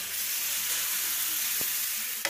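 Thick gumbo mixture being stirred in a pot, with a steady, close sizzling hiss and faint scraping of the spoon, plus a couple of brief sharp clicks near the end; no talking.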